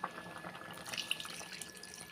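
Water poured into a tamarind curry with brinjal and drumstick cooking in a pot, giving a faint, brief splashing and trickling with a few drips, close by and without talk.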